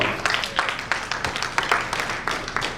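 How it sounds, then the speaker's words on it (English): Applause rises from a standing audience at an endowment trust launch event: a fairly loud, rhythmic patter of many hands clapping, with no talk over it. "let's give them a round of applause."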